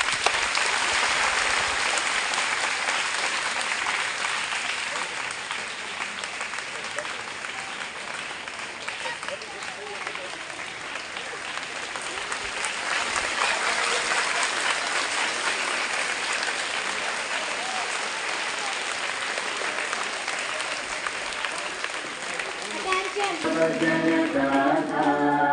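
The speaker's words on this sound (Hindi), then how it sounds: "ताली बजाओ भाई बच्चे।" Schoolchildren applaud at a flag hoisting during a senior secondary school's Independence Day celebration, with sustained dense clapping from a large crowd lasting over twenty seconds, then the start of singing at the end.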